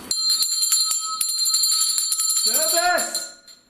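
A bell rung repeatedly during a ghost-hunting session, bright ringing strikes in quick succession, then voices talking over the fading tone at the end.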